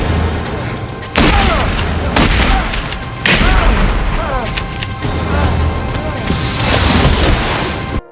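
Shotgun blasts in an X-Files TV episode: several heavy booming shots in a loud, dense soundtrack, with music and effects running throughout.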